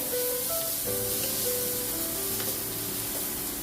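Chopped tomato dropped into a pan of sizzling spiced mushroom curry (kosha mushroom), a constant close hiss and crackle of frying that holds steady throughout with no speech.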